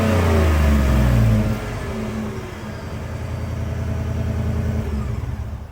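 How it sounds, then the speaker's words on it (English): A Ford F-150's 5-liter V8 revs hard from the tailpipe exhaust, then drops to a deep rumbling idle that slowly builds again. "here's what the 5-liter V8 sounds like from the tailpipe"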